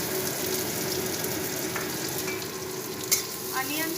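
Chopped onions fry in a tablespoon of oil, giving a steady, close sizzle with a few light stirring scrapes and clinks toward the end.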